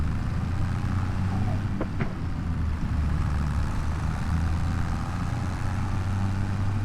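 A tractor engine idles steadily in a Montana roleplay farming video game, a low continuous rumble that stays even throughout with no speech over it.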